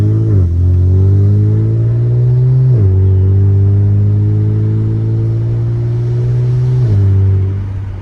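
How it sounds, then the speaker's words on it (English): Twin-turbo V6 car fitted with DC Sports downpipes, MBRP exhaust and the catalytic converters removed, droning loudly and steadily from inside the cabin with windows down, its pitch climbing through two gear changes. "I have both windows down just so I can hear the exhaust much better."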